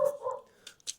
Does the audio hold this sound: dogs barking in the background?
yes